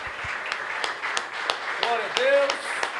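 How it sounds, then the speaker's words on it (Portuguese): Congregation in a church clapping hands in rhythm, steady claps under a speaking voice and some singing tones. "Palmas ao Senhor."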